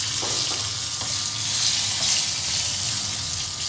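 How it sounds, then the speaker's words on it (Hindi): Curry leaves, cumin, bay leaf and chillies tempering in plenty of hot oil, a continuous bright sizzle with occasional crackles and stirring, no talking. "तो ये पहले हम डाल रहे हैं कढ़ी पत्ता इसमें, फिर हम डालेंगे जीरा, तेज़पत्ता और मोटी मिर्ची।"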